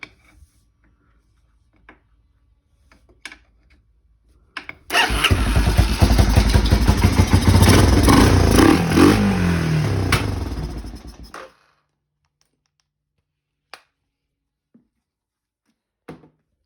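A motorcycle-type engine with a burnt-out exhaust cranks and bursts into a loud, rough, rattling run for several seconds, then cuts off abruptly, leaving quiet with a few faint clicks.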